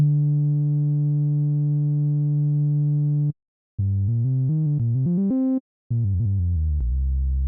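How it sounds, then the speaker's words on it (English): Synth bass with its filter opened slightly and reduced resonance, brighter with some overtones above the note: a sustained low tone for about three seconds, then a run of short stepped notes with brief gaps, no voices. "we could open up the filter just a little bit and reduce some of the resonance"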